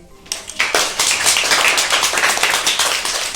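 A group of schoolchildren claps together in a classroom, a loud, dense burst of hand claps close by that keeps going steadily after a brief quiet start.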